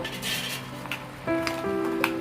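Crab curry simmering in a pan after warm water is poured in, a steady sizzle and bubbling with a faint tonal hum running beneath, slightly louder and fuller in the second half.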